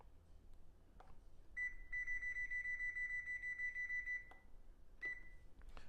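A kitchen timer alarm sounds a fast, steady run of high electronic beeps lasting a few seconds, then stops; a short final beep follows after a pause, with light kitchen handling noises around it.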